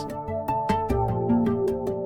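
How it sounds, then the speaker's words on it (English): A plucky synth loop plays short, bright tonal notes in a bouncy repeating pattern over light percussion, clear and upfront with no talking. "I have a little bit of a percussive kind of pluck loop thing going on"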